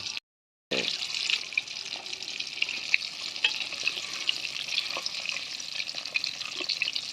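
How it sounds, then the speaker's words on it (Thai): Salmon fillets frying until crispy in hot oil, a steady dense sizzle with scattered crackles and pops, close and continuous after a brief silent gap at the start. "ก็ปลาไซมอนทอดให้กรอบกันนะครับ"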